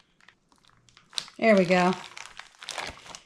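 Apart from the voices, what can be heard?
zipper bag being zipped closed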